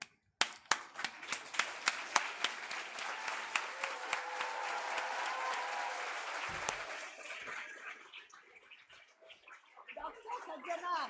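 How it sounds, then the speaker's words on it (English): A lecture audience at a guest talk breaks into applause and cheering for a standing ovation, first with sharp scattered claps and then a dense, sustained roar of clapping that fades toward the end as voices come in. "stand up where you are and start clapping and cheering"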